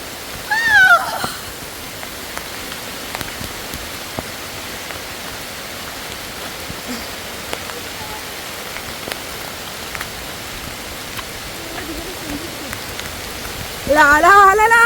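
Steady rain falls close by in a hilly area with flash flooding and mud, a dense even patter throughout, with brief voices at the very start and end.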